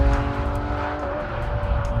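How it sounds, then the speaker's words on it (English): A Porsche GT3 RS with a 3.6-litre flat-six engine, loud and close, with a sustained high engine tone and no voices. "The noise of this car is pure motorsport."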